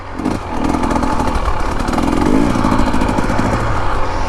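A Husqvarna TE250 dirt bike engine buzzes loud and close while riding in second gear on desert trails, a steady rasping drone with slight rises in revs.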